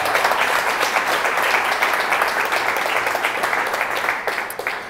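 Sustained applause from a crowd, steady clapping throughout that tapers slightly near the end.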